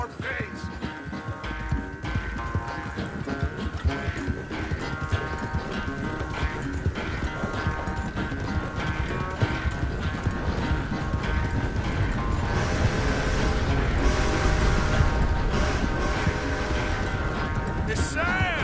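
Horse hooves clip-clop steadily in the Red Dead Redemption 2 video game, a continuous rhythmic trot under music and game sounds, with mechanical creaks, occasional whinnies and voices talking.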